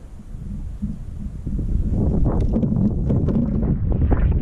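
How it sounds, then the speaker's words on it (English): Strong wind buffets the microphone on a lake during cold-water kayak fishing for bass, a loud, low rumbling roar that swells and stays heavy after the first second and a half. "the wind's like pretty bad today"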